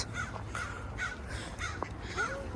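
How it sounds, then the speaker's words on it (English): Several crows caw outdoors near a river, harsh repeated calls at moderate distance that overlap one another against a low background rumble. "The crows are jealous."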